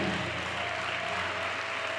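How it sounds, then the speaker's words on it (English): Continuous applause from a church congregation, many people clapping in a dense even roar, with soft sustained organ notes in the background. "the Lord a rousing round of applause"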